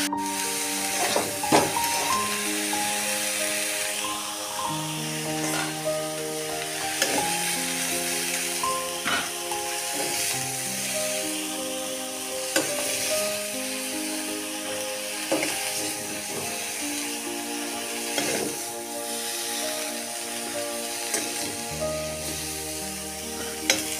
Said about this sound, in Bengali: ভালো করে ভাজা করে নেব।